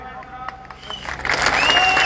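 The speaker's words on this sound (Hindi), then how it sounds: "जोरदार तालियां नाल सचिन पायलट जी का स्वागत।" Crowd applause and cheering rise at an outdoor Congress party campaign rally in Punjab, greeting Sachin Pilot: faint at first, then swelling into a loud, sustained wash of clapping with voices mixed in.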